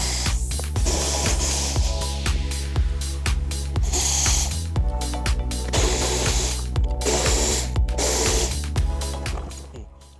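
Hand ratchet clicking steadily in repeated bursts while backing out bolts from a BMW M340 G20 front bumper fitted with aftermarket mud flaps, close and loud with no talk.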